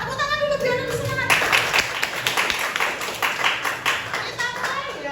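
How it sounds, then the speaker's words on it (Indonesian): A classroom of students claps hands in a lesson before a word-guessing game, a lively burst of many clappers starting after a moment of a voice, with chatter and talk mixed under the clapping. "Tepuk tangan dulu biar lebih semangat."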